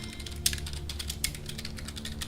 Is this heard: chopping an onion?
no